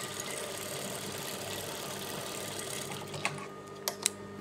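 A sewing machine stitches a lined churidar top, a quiet, steady mechanical whirring throughout with a few brief sharp clicks near the end.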